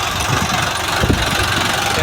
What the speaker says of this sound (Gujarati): જોઈ શકો છો આ ટ્રેક્ટર છે અહીંયા।